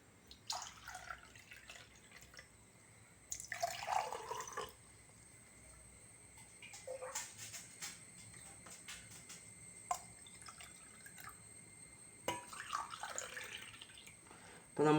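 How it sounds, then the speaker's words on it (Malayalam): Water is poured into a row of glasses set up for a homemade water battery experiment, coming as several separate bursts of splashing and trickling, quiet and close, with pauses of near silence between pours. "അപ്പോൾ നമ്മളെല്ലാ ഗ്ലാസ്സുകളിലും വെള്ളം ഒഴിച്ചിട്ടുണ്ട്."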